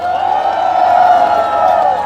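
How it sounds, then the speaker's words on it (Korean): A crowd at an outdoor joint campaign rally in Okjong, Hadong, welcoming the former National Assembly speaker Woo Won-shik, producing a sustained roar of cheering and applause that stays loud and unbroken for the whole span. "우리 우원식 의장님 뜨거운 박수로 맞아주셨으면"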